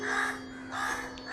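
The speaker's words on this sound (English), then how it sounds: "the alarmed cawing of the flock of crows added to the cacophony" A flock of crows caws in alarm, harsh repeated calls rising and falling close by, with no voices.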